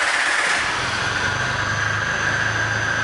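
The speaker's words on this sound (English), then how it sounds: "It starts right up." A 2006 Jeep Wrangler Unlimited Rubicon Rockcrawler with a 5-speed manual fires up and settles into a steady, close idle, a short continuous engine rumble with no voices.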